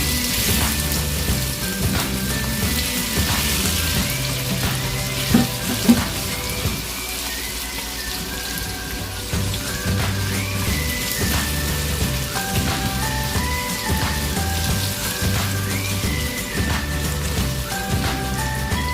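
Garlic and onion frying in hot oil, a continuous loud sizzle and crackle that runs steadily throughout with no talk.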